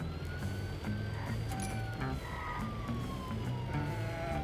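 A wailing ambulance siren in the game Does Not Commute sweeps up and down at moderate distance over a low engine rumble, with faint clicks and beeps scattered throughout.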